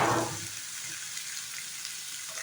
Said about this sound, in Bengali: এটাকে আমি ভেজে নেব তেল গরম হয়ে গেছে